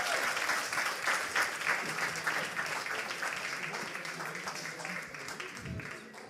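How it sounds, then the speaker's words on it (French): Audience applauding presenters at the close of an evening event in Quebec, a steady wash of many hands clapping that fades slightly toward the end, with faint voices underneath. "On applaudit nos présentateurs une dernière fois."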